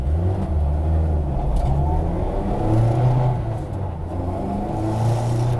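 Low, throaty engine drone from a new MST mk2 Ford Escort, a road-legal fast road rally car with a Group 4 shell, heard from inside while driving, with rising and falling revs and a steady rumble.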